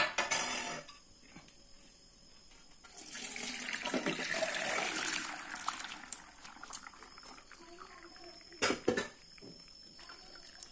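Rice and water poured into a perforated colander set over a pressure cooker, a rushing splash of liquid draining for a few seconds, followed by sparse clinks and drips in a home kitchen.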